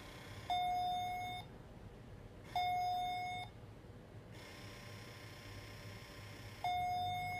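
Electronic chime from an AliExpress magic soap dispenser, three clear beeping tones a few seconds apart over a steady background hiss.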